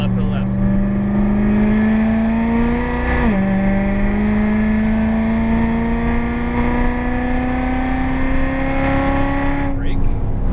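A Corvette Z06 engine pulls hard around Las Vegas Motor Speedway, its loud, close drone climbing steadily in pitch, dipping briefly mid-run as the throttle eases, then rising again to the end.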